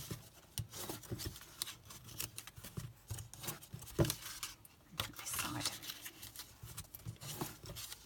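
Crisp snipping and rustling of scissors working through paper, several short cuts in uneven rhythm, close by with a faint voice in the background.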